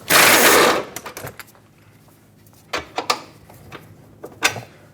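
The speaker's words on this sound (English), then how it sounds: "Now let's use a 17mm socket. You may or may not need a swivel, and remove the forward lower control arm bolt." A 17mm socket loosens the forward lower control arm bolt on a 2012-2017 Hyundai Accent: a loud, close mechanical whirring burst, then scattered metallic clicks and clunks.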